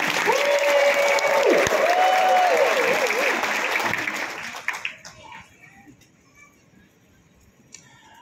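A crowd at a church anniversary celebration breaks into loud, dense applause that is bright and sustained for about four seconds. It then dies away into a few scattered claps, with a voice and some reverberant tones under the start.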